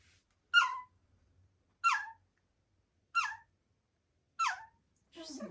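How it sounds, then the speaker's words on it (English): A two-week-old bird dog puppy, the biggest of the litter, squeaks in its sleep while dreaming: four short, high chirping squeaks spaced about a second apart, then a softer fifth, close and quiet with silence between. "this is the biggest puppy, the one that's squeaking"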